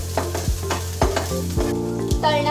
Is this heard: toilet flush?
no